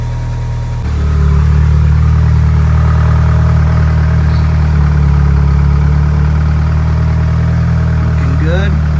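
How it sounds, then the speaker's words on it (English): A DSM car engine idles with a steady low rumble close by, then rises into a couple of brief revs near the end before dropping back. "give it a couple revs"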